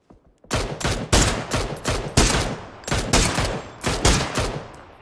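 Rapid bursts of automatic gunfire in the battle royale game PUBG, a dense run of loud, closely spaced shots repeating in clusters across the clip with no talk.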